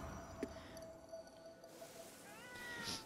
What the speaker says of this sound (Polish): Kot?